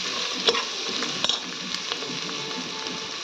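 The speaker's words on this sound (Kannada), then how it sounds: "ಚೆನ್ನಾಗಿ ಫ್ರೈ ಮಾಡ್ಕೊತಾ ಇದ್ದೀನಿ" Coriander leaves frying in a pan over a gas flame, a constant close crackling sizzle with light stirring scrapes and occasional clicks throughout.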